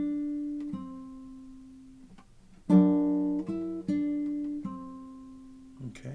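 Classical guitar playing a few slow single notes from Roncalli's Gavotte, each plucked note sustaining and decaying before the next, close and clear, with a soft brush of sound at the end.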